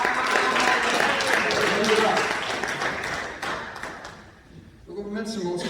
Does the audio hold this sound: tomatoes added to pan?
no